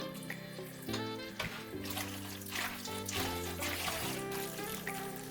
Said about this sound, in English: A little bit of pasta water.